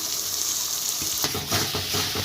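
Tomato and green chilli paste frying in a pan for a catla fish curry, a loud continuous sizzle with several rhythmic stirring scrapes in the second half, close by and without talk.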